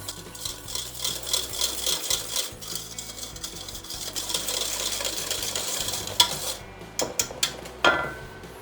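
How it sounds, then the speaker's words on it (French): Egg yolks and caster sugar being whisked together in a bowl, with a steady, rapid scraping and rubbing rhythm of the whisk against the bowl, interrupted near the end by a few sharper knocks. "Je blanchis l'ensemble à l'aide d'un fouet."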